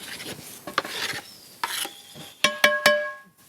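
Masala for Kerala-style beef tail curry being stirred in a pot in a village kitchen, a dry rasping scrape of ladle against metal with a few sharp clinks toward the end, close and loud with no talk.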